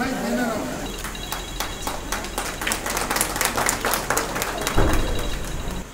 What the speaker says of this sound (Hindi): इसके साथ ही तालियां बजाकर उत्साहवर्धन किया।